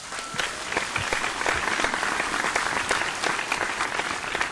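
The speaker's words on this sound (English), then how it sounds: "give another big round of applause for William as he heads backstage" A live audience at a singing competition applauds as a contestant heads backstage, many hands clapping in a continuous, lively burst with individual claps audible close by.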